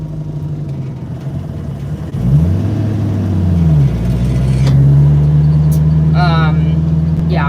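A 1968 Ford Mustang engine on the road, a steady idle-like drone that surges as it accelerates, with the pitch rising and dropping, then settling into a louder steady hum, close by, with brief talk.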